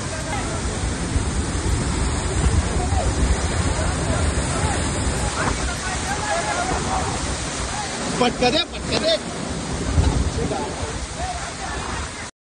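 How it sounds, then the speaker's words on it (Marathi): Pandavkada waterfall in Kharghar, swollen by heavy rain, roars steadily for the whole stretch. Crowd hubbub and shouting voices mix in throughout, with a burst of louder activity near the end. "खारघरच्या पांडवकडा धबधब्याचा प्रवाह अचानक वाढला"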